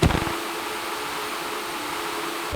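A steady, even whoosh of rushing air from a Minecraft game sound that resembles a ventilation fan, continuous and fairly loud throughout, with no talking.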